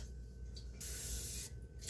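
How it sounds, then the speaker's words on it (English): Cooking spray hisses from a can into a cast iron pan in one short, soft burst of about a second, close by in a quiet room. "So I'm just going to spray this."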